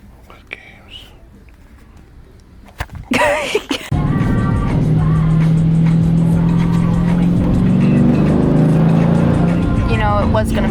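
A car on a rainy day suddenly speeds up: after a few quiet seconds a loud, sustained engine roar with hissing tire and road noise takes over, with a squealing edge running through it.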